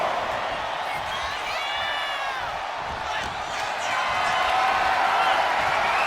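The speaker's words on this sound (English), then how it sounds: "However you feel about Seth Rollins, he knows how to get the crowd going." A large arena crowd in a wrestling video game roars and cheers steadily for Seth Rollins, a wall of noise with whoops rising out of it, swelling louder toward the end.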